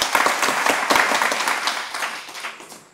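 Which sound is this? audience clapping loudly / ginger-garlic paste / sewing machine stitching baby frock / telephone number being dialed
audience clapping loudly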